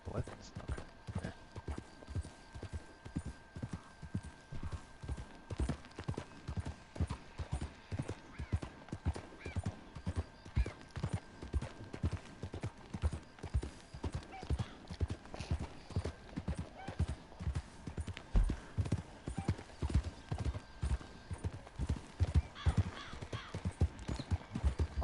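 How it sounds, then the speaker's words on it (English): Hooves of a ridden horse in a video game clip-clop in a steady, even rhythm, close and fairly loud, with an occasional whinny and a voice talking over them. "I actually have no idea where my horse is riding."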